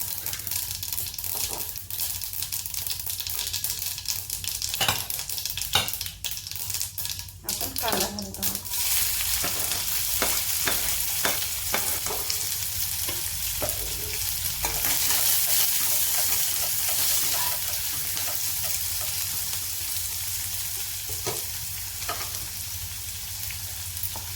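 Mustard seeds and cumin sizzle in hot oil in a pan, a steady close crackle with scattered sharp pops and clinks, a brief rattle early on, and a voice faint in the background.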